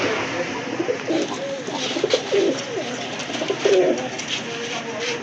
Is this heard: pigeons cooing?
yes